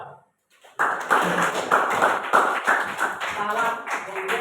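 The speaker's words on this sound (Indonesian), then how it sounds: "Aplaus dulu." An audience at an Islamic lecture on marriage breaks into applause after a brief silence, with dense, close clapping that holds steady for several seconds and fades only slightly.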